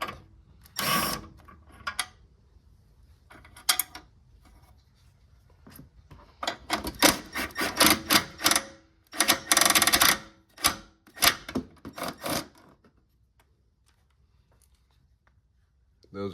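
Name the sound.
removing bolts from Honda Civic engine mount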